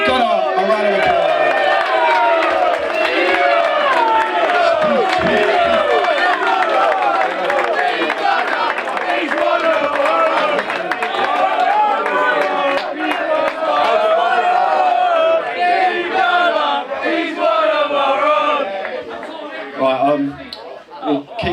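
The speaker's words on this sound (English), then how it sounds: "Give Gunnar a round of applause." A football club's end-of-season awards crowd roars for the skipper as Clubman of the Year with loud, dense cheering, whoops and clapping. Chatter mixes in, and the din holds steady before easing near the end.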